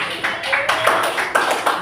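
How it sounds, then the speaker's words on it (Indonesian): Classmates clap for a student group in a classroom, a short burst of fairly loud, close hand claps with an uneven rhythm. "Tepuk tangan untuk kelompok 5."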